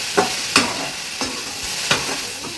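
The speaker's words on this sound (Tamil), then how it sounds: "இதை போட்டு வதக்குனீங்கன்னா டக்குன்னு வதங்கிடும், பிசுக்கு தன்மை போயிடும்" Okra tossed with salt in a hot pan for a Tamil home-style lunch, giving a few distinct scraping stirs of the spatula over a faint steady sizzle, close and moderately loud with no talking.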